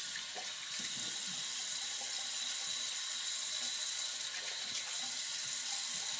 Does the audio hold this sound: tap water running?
yes